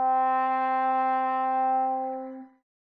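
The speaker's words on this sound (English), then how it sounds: "Okay, and with the plunger mute," Sample-modeled virtual trombone with a plunger mute holding one steady, bright note for about two and a half seconds, then fading out; the tone is alone with no other sounds.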